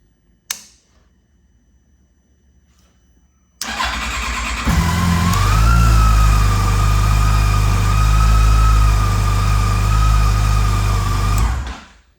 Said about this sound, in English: watch what the voltage drops to while the starter motor is trying to actuate